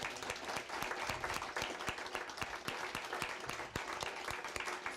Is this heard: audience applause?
yes